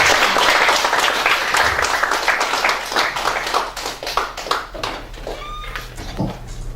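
Audience clapping welcomes a lecturer at a nuclear society leadership school session, a dense burst of applause that gradually thins into scattered claps, followed by a few faint tonal sounds.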